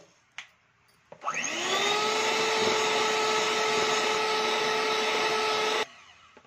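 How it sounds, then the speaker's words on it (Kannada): An electric mixer blends chocolate ice cream mixture with vanilla essence in a single sustained high-pitched whine of about five seconds, close and loud, starting and stopping abruptly after a faint knock. "ಈಗ ವೆನಿಲಾ ಎಸೆನ್ಸ್ ಹಾಕಿದ್ಮೇಲೆ ಮತ್ತೆ ಒಂದ್ಸತಿ ಮಿಕ್ಸ್ ಮಾಡ್ಕೊಂತೀನಿ"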